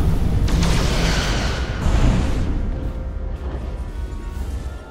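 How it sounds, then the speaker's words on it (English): Photon torpedoes fire from a starship in the Star Trek Resurgence video game, heavy booming blasts and a rumbling roar that swells and then slowly fades, loud and close. "Fire photon torpedoes."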